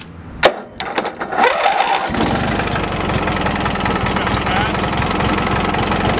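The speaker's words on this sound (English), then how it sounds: "Well, you can see it's running under her own will." An old Indy 500 tractor with an opposed-twin engine, a few sharp clanks before it catches and settles into a steady, slightly uneven chugging idle close by, with a voice speaking over it.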